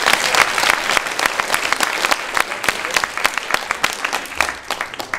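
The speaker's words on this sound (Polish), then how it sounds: "brawa dla Was" Dense, lively applause from an audience at an improv comedy show, steady close claps with a few voices in the crowd, thinning slightly toward the end.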